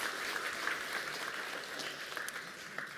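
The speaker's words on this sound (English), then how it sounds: "please, let's applaud them for the work that has been done" Audience applause at a digital technology conference, a steady wash of many hands clapping at moderate distance, sustained and even for a few seconds.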